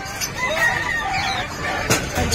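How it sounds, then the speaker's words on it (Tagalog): Chicks peep and cluck in a busy pet market stall, a cluster of bright overlapping chirps that sounds close, with a sharp clatter near the end and some faint human voices in the background. "Black chick na chick."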